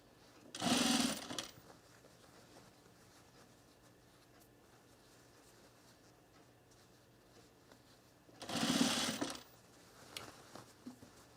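A sewing machine stitching a color block top runs in two short bursts of rapid whirring, near and clear, separated by quiet pauses.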